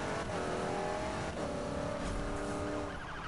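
A 1965 Mustang GT racing in Need for Speed surges forward on a nitrous boost, its engine roaring steadily and loudly close up with faint tire squeal, with no talking.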